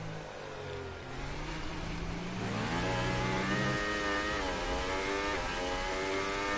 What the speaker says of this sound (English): Up the gears they go.